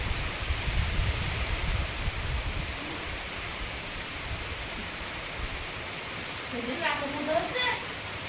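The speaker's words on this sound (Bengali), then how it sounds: "বিরাট বৃষ্টি নেমেছে।" Heavy rain pouring steadily outdoors beside a newly dug fish pond in rural Bengal, a continuous soft hiss of drops, stronger at first, with a short bird call rising briefly near the end.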